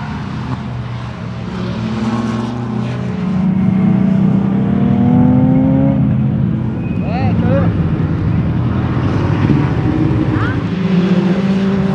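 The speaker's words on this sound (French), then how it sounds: "Moteur de Volvo 480 turbo" A race car with a Volvo 480 turbo engine revs hard and loud nearby, rising and falling through gears with whooshing turbo bursts over a constant roar.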